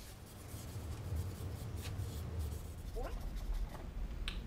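Steady soft scratchy rubbing of a cotton ball on the painted surface of a foam B-17 model wing, continuous and close, with a low background hum throughout.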